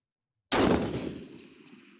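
A single loud rifle shot cracks out at a shooting range during long-range hunter rifle practice, a sharp close blast followed by a long decaying echo rolling across open ground.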